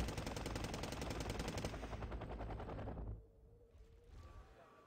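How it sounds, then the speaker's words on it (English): Continuous rapid machine gun fire from Puma infantry vehicles in the war strategy game Wargame Red Dragon, loud and dense for about three seconds, then dropping away to a quieter, sparser tail. "This constant machine gun fire is those Puma shooting my flamethrowers."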